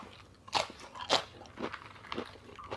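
Close crunching and chewing of an apple snail salad eaten with crisp raw vegetables, a few sharp crisp bites followed by softer, irregular mastication noises, with no talk.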